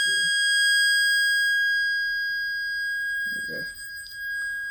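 Steady electronic test tone from an audio generator, used in bench testing a Leslie dividing network, holding a constant pitch with harmonics throughout, with brief low thumps at the start and again midway.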